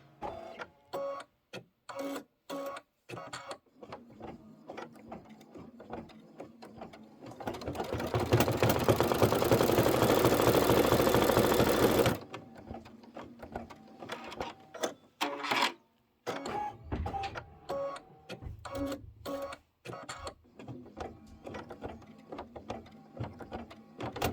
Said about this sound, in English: And then we're going to stitch the broom head string detail.